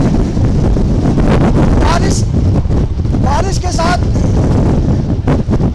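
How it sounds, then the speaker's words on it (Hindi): Strong Cyclone Biparjoy winds with rain on the Gujarat coast roar as loud, constant buffeting against the microphone, while a reporter speaks over the gusts. "बहुत तेज हवा इस परिसर में चल रही है"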